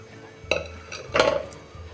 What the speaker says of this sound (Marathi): आता हे लगेचच कुकरमध्ये ओतून घ्यायचं आहे